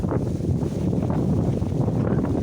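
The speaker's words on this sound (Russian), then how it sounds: "О, какой ветер." Strong wind gusting across a microphone outdoors at a farm pasture near a bunker entrance, a steady loud rushing roar with buffeting, no voices.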